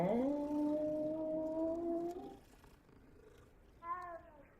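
A cat in the video game Hogwarts Legacy gives drawn-out, wavering vocal tones, fairly close, fading out midway before a short final call, with no speech over it.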